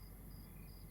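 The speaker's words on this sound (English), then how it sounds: "I'm just hearing crickets over and over again, and birds." Crickets chirp in the ambient soundscape of the video game Lucius. The chirping forms a faint, continuous, even buzz with no voices over it.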